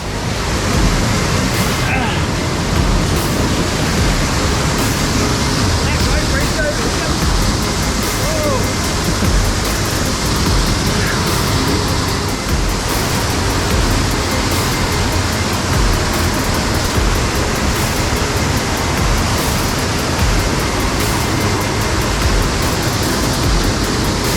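A waterfall pours over rocks close by, a loud, unbroken roar of rushing water that stays constant throughout with no pauses.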